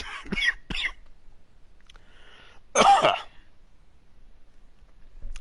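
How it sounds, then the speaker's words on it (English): A couple of quick dry coughs up close, then a pause and one harsher, louder cough or throat clear in an otherwise quiet room. "I still have the cough"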